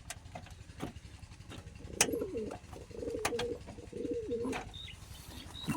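Young pigeons in a cage coo repeatedly in soft, low rolling calls over a steady background hum, with a few sharp chirps and clicks nearby.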